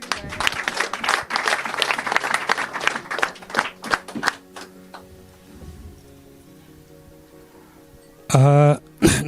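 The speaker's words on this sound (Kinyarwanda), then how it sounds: "Ndagira ngo mwongere mu bampera amashyi." Guests at a civil wedding in Rusororo sector clap in a burst of brisk, scattered hand claps that thin out into a few isolated claps, followed by a short loud tonal sound near the end.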